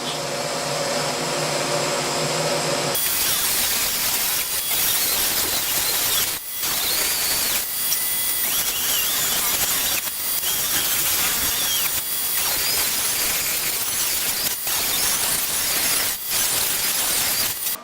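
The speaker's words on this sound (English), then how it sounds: "So now I'm going to set up my table saw and I'm going to start cutting strips." Table saw ripping wood into strips for an edge grain cutting board, a loud continuous whine and rasp of blade through wood, with brief dips between passes and an opening hum of the saw spinning up idle before cutting begins.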